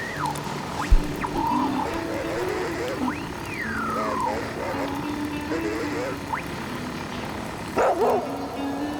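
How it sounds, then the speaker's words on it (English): Dog in The Flame in the Flood, a few short barks and yips near the start and again near the end, over background game ambience while a person talks throughout. "here is a doggy that we haven't met before"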